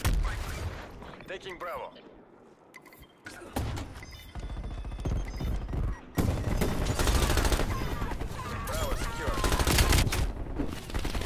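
Shotgun blasts and rapid gunfire in Call of Duty: Cold War multiplayer, dense and loud bursts after a quieter stretch, mixed with game voice callouts and talk.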